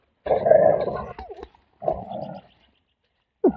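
A wolf growls in bursts while playing with a big tire, close and fairly loud, in three separate rumbling growls with pauses between.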